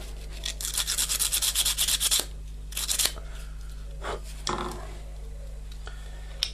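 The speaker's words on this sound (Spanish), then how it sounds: "Con un trocito de papel le damos una pequeña pasada a fin de que quede brillante" A small scrap of paper rubs over a washing machine motor rotor to polish it: two seconds of fast, scratchy strokes, then a few short rubbing bursts over a constant low electrical hum.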